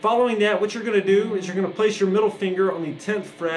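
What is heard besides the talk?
None of the usual background noises is heard.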